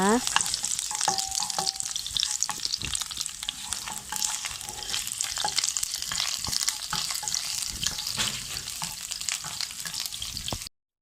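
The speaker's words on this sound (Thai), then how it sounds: "แล้วก็เจียวด้วยกระเทียมนะคะ" Garlic fries in hot oil with a steady, loud sizzle, dotted with small crackles and occasional stirring clicks, no voices.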